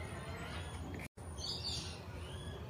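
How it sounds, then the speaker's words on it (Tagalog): Faint, scattered bird chirps rise over a soft, steady outdoor hush in quiet countryside by a yard of dry Bermuda grass, with one brief dropout partway through. "Mga ibon lang ang maririnig mo dito."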